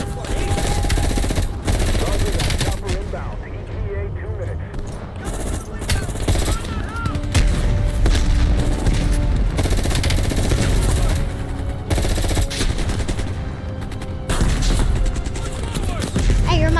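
Rapid automatic gunfire and scattered explosions in a Call of Duty Black Ops firefight, dense bursts of machine-gun fire continuing loud throughout with brief lulls, close and intense.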